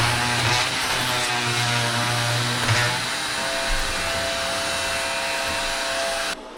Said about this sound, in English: now I'm going to use the heat gun and just heat this up and then pull it off for my dad